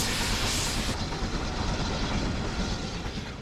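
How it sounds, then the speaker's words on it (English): Steam locomotive 80151 hauling coaches thunders past on the Bluebell Railway near Sheffield Park, a loud, close rumble and rattle of wheels with a hissing edge that stays strong throughout. "As we see 80151 with the coaches is just taken out of the siding, thundering past, on its way to Horsted Keynes."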